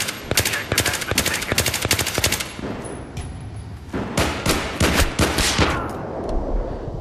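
Rapid bursts of gunfire sound in Battlefield 3 during a Conquest match on Kharg Island, loud and close in two clusters of repeated shots separated by a brief lull.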